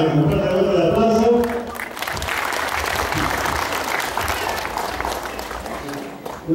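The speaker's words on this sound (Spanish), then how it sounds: "Un fuerte abrazo de aplauso." A crowd of farmers at a presentation applauds a steady round of clapping after someone speaks briefly at the start, the applause sustained and moderately loud.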